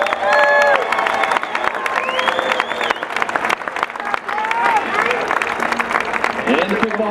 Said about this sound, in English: Please give a big round of applause for Daniel Gavin.